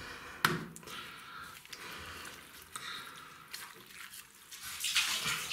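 Water drains from a washing machine's filter, a faint trickling and splashing stream with a few sharp drips and knocks, close by and without speech.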